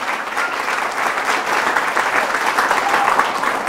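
An enthusiastic church audience bursts into sustained applause for Jesus, a dense, even wash of clapping from a large crowd filling the room.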